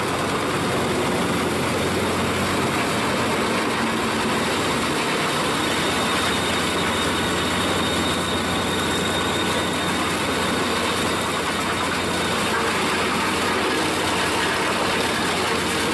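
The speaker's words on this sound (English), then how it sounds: "At the heart of this wood-chipping marvel roars a 12-cylinder Caterpillar engine, unleashing an awe-inspiring 1150 horsepower to propel the Pezzolotto drum chipper into action." A Caterpillar 12-cylinder, 1150-horsepower diesel engine powering a Pezzolotto drum wood chipper runs steadily, a loud continuous low rumble with a constant hum and no changes in pace, close to the microphone and free of talk.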